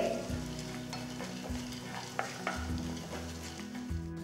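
Chana dal, coriander seeds and cumin seeds dry roasting in a pan over medium flame, giving a steady low sizzle with scraping stirs and a few sharp ticks throughout.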